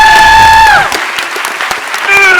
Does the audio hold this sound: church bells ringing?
no